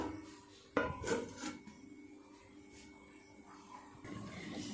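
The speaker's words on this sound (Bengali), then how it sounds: "ঢাকা দিয়ে দেব।" A lid goes onto a cooking pot of vegetables simmering for a Bengali rohu fish head and Malabar spinach dish, making one quiet clink followed by a faint scraping settle in a hushed kitchen.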